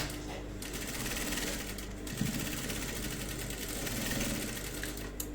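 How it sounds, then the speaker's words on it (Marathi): A sewing machine stitching a designer blouse runs in a steady, rapid mechanical whir with fine repeating clicks, close and fairly quiet, with no talking. "आतून ही मी टिप मारून घेते"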